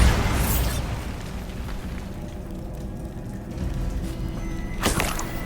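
A Bombarda spell explodes in Hogwarts Legacy with a loud burst at the start that fades into a rumbling tail, and a second sharp blast arrives near the end.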